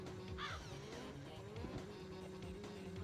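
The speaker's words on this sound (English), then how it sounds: "I love a good bird noise when I'm racing." A single bird caw in the N64 game Polaris SnoCross, brief and fairly clear, heard over the steady drone of a snowmobile engine during a race.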